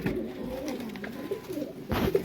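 Domestic pigeons in a loft coo steadily in soft low throaty murmurs, close by, with a brief louder flutter or rustle near the end.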